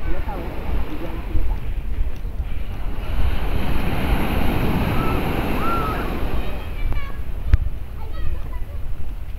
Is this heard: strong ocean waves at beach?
yes